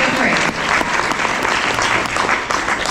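An audience claps steadily and fairly loudly through the whole stretch at a live panel conversation, a dense, even applause with no break.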